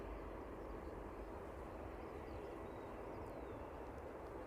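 A jet aircraft passes over the runway threshold at East Midlands Airport, heard as a steady, distant engine roar with a low rumble that holds evenly throughout and no voices.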